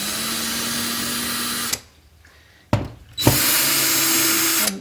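A power drill backs screws out of tinplate model railway track, two loud whirring bursts separated by a quiet gap and a short clack, no talking.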